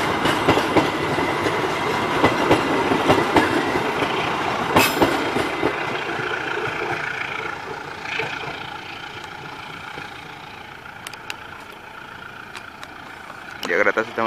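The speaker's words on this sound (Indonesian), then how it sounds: "kereta sudah meninggalkan stasiun Mojokerto" A train rumbles past on the rails at Mojokerto station, Indonesia, with steady clattering and rolling noise, loud and close, gradually fading toward the end.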